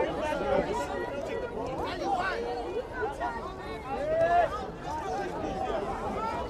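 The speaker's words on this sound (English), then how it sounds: "Capacity crowd still filing in." A capacity crowd chatters steadily through a boys high school soccer match between Livingston and Kearny, a dense, mid-distance babble of many voices with occasional louder calls rising above it.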